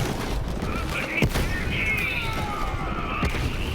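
A shotgun in Borderlands 3 fires two heavy, chunky blasts spaced about two seconds apart. They stand out over busy in-game noise and faint background voices.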